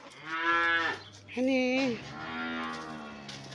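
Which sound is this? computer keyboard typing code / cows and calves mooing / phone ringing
cows and calves mooing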